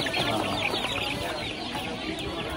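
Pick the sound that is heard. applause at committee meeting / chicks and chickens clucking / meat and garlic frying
chicks and chickens clucking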